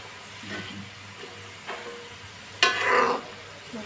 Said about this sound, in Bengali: এটা ফ্রেঞ্চ ফ্রাইগুলো ভাজার সময় জালটা মিডিয়ামে রেখে আমি ভেজে নিচ্ছি।